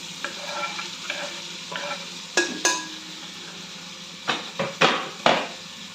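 Chopped onion dropped into melted butter in a pan, sizzling softly under repeated spoon stirs and scrapes against the pan, close and clear with no talking.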